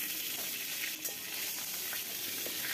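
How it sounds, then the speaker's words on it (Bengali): Pointed gourd (potol) with a little salt frying in hot mustard oil, a close, even crackling sizzle with small pops, heard on its own without talk. "তেলটা ভালো করে গরম হয়ে গেলে এর মধ্যে সামান্য একটু নুন দিয়ে পটলগুলোকে ছেড়ে দেব।"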